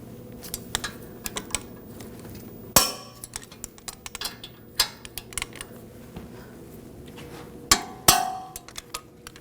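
A torque wrench tightens brake caliper bracket bolts to 147 foot-pounds on a 2006-2009 Audi S4 4.2L V8, with soft ratcheting ticks and two sharp, close metallic clicks standing out.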